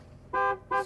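A car horn honks twice in quick succession, two short, loud toots close by, used to call in wild horses in the Salt River Pima-Maricopa Indian Community.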